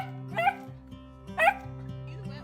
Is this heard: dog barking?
yes